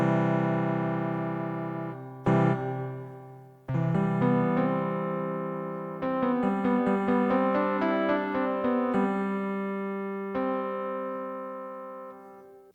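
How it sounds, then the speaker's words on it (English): Sustained digital piano chords and notes with a reverb effect ring out with a long, spacious reverb tail, played alone with no voices. "Now I was curious to see what this reverb sounds like"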